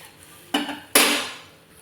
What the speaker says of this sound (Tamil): நான் ஒரு கையில் தவா பிடிக்காமையே திருப்பி போடுறதுனால தவா நவுந்துக்கிட்டே போகுது